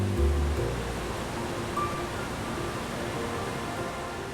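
A waterfall pouring over an overhanging ledge, a steady broadband rushing roar that stays constant throughout with no voices.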